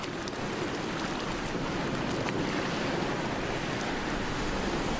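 Ocean waves wash over a sandy beach in a steady, loud roar of surf with wind noise, continuous and close with no voices.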